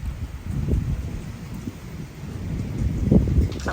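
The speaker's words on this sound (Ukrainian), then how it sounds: "Нормальний дощик." Rain falls outside a balcony in Budva, Montenegro, making a soft, even, low hiss with gusts of wind buffeting the microphone throughout.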